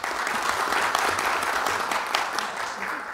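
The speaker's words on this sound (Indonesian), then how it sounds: "kita kasih aplaus" Audience applause at an Indonesian parliamentary hearing, a dense, even patter of many hands clapping for about three seconds at moderate distance.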